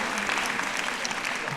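A crowd claps steadily through a short burst of applause for songwriters at a Stuyvesant master session, with dense, even clapping and no pause.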